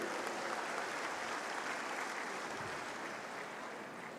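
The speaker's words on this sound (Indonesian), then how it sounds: "Tepuk tangan untuk saya boleh ya" A large audience at a university graduation ceremony in Indonesia claps steadily after a speaker's joke, a thick, even roar of hands filling the hall without any voices on top.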